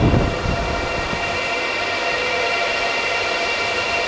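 A loud, steady roar of air and machinery fills the hot aisle inside a large 700MW data center, a dense continuous hum with no talk.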